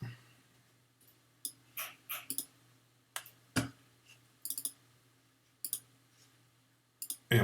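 Sharp mouse clicks in photo editing software, scattered and irregular, some single and some in quick doubles, close and fairly clear over a faint steady hum.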